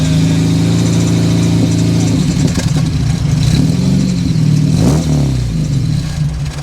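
An Audi 100 Coupé S engine runs with the hood open, idling close and loud before revving up and down in several strong swells.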